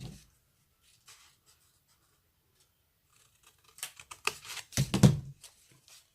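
Scissors or a blade cut through material for a compartmented staircase box, a few crisp snips and scratchy cuts near the end after a long quiet stretch, close and fairly loud.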